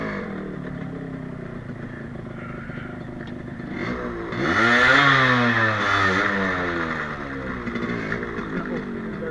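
Yamaha RXZ motorcycle accelerating hard during a wheelie attempt, its two-stroke engine rising in pitch through a loud revving surge and then easing back, heard close and without talk.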